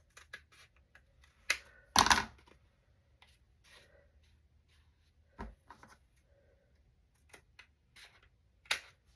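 Scissors snip at paper in scattered crisp cuts, a louder cluster near the start, then sparse quiet clips in an otherwise still room.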